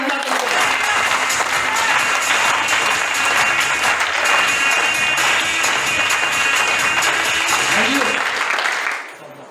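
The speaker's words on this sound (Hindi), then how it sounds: "एक बार अपने लिए जोर दो ताली।" A crowd claps loudly and continuously for about nine seconds, a dense wash of applause that fades quickly at the end.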